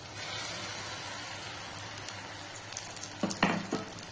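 Ground herb paste frying with softened tomatoes in oil in a pan sizzles with a steady hiss, then a few scraping stirs near the end.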